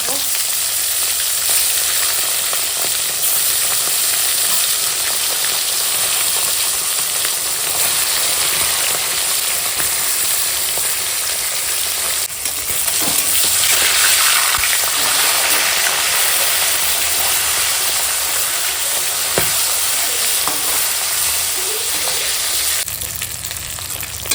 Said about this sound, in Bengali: এখন মাছের মাথাখানা ভেজে নেবো